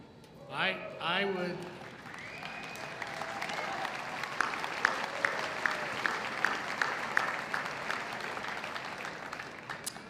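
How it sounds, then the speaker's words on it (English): Audience applause at a University of Wisconsin-Parkside spring 2024 commencement ceremony, a steady wash of clapping that swells after a brief spoken line and continues for several seconds through the hall. "You can applaud anytime you want this afternoon."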